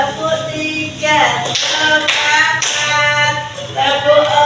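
A class of participants claps in unison during an ice-breaker clapping game led by a teacher, sharp synchronized group claps in short rhythmic bursts, close and loud, with voices chanting along.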